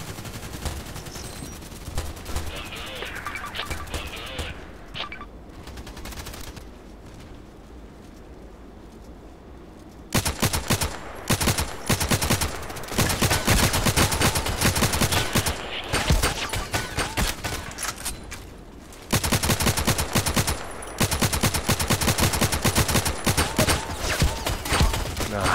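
Rapid automatic gunfire from a weapon in the shooter game Contract Wars, loud sustained bursts with brief pauses, over quieter in-game ambience.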